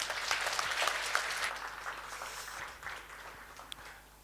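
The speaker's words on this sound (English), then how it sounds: "Give him a round of applause, please." An audience at a live budget discussion claps for the Minister of Finance, a brief, fairly quiet patter of hands that fades over a few seconds.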